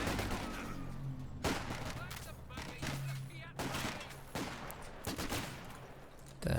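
Machine-gun fire rattles through a Company of Heroes 2 match, dense overlapping bursts and booming shots under a commentator's voice.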